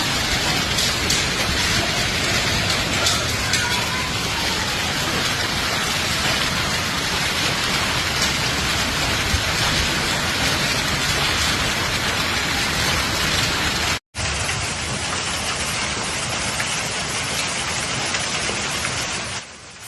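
Rain and hail from a Florida storm in Pinellas pour down as a dense, continuous hiss of drops striking surfaces, loud and steady, with a brief break near fourteen seconds and no voices.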